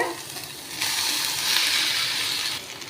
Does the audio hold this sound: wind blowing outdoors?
no